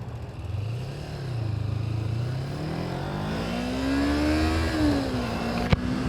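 A Kawasaki Ninja 250 motorcycle rides along a winter road, its engine revving up and down through rising and falling pitch sweeps, loud and close, with a sharp click near the end.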